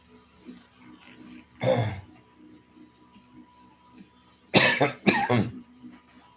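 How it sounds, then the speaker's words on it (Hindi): Someone coughs close by, once, then twice more in quick succession after a pause, with soft background murmur between. "सॉरी मेरी खांसी ख़त्म नहीं हुई अभी"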